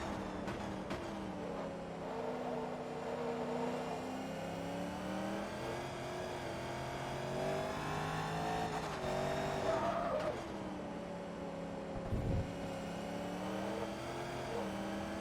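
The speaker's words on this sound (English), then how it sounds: "See, even with half throttle, the car still breaks loose going around corners" Corvette race car in the Forza Motorsport 2 Corvette Touring Cup, its engine holding a steady, droning note at part throttle around a track, with the pitch wavering through corners and a brief thump near the end.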